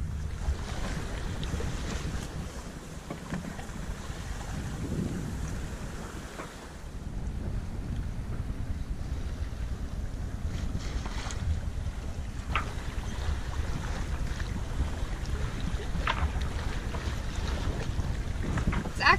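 Sailboat under way on the Mediterranean Sea on a fine breezy day: a steady broad wash of wind and water with microphone buffeting and low rumble throughout, no voices.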